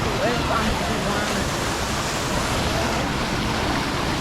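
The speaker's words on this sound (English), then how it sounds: "There's the waterfall." A waterfall on the Wisconsin River at the Upper Dells, heard from a boat, gives a constant loud roar of rushing water that fills the scene without pause.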